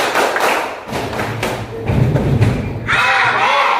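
Schoolchildren in a classroom clap along to a cheerful action song, with a handful of firm, rhythmic hand claps landing under the group singing, then a single voice carrying on afterward.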